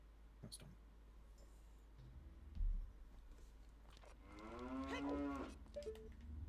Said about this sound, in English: the cow noise is nighttime